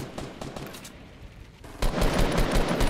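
Rapid gunfire from a gun in Fortnite Battle Royale, a steady stream of shots that swells louder and denser partway through, amid busy game noise.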